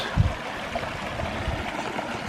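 A forest creek in Bankhead National Forest, Alabama, flowing in a steady, continuous rushing wash with no talking.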